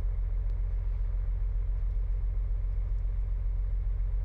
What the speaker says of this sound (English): this is the slowest car I've ever freaking been in before